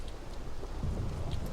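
Continuous rainfall with a low rumbling undertone in a Legacy of Laevus role-playing game world, an even, moderately loud downpour with a few soft splashes, heard alone without talking.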